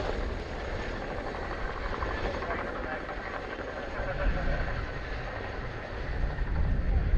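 An RAF Chinook HC.5 tandem-rotor helicopter at an air show produces a broad, continuous rotor roar and rumble at a distance, with an announcer talking over it.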